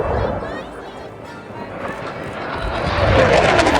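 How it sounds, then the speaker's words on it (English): A Canadian CF-18 fighter jet makes a high-speed pass at the Abbotsford airshow, its broad roar building steadily and growing loudest toward the end, with crowd voices mixed in beneath it. "You don't just hear a CF-18, you feel it as it speeds over you."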